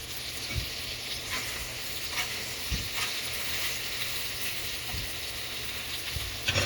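Steady crackling sizzle of crawfish tails frying in hot peanut oil, with occasional soft pops and clinks, no talking.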